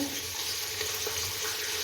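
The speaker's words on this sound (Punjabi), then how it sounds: "ਹੁਣ ਆਪਾਂ ਇਹਦੇ ਵਿੱਚ ਗੁੜ ਪਾ ਰਹੇ ਹਾਂ ਗੁੜ ਵਾਲਾ ਪਾਣੀ" Jaggery water pours into a ground mixture in a home kitchen, making a steady, close splashing trickle that runs without a break and without talk.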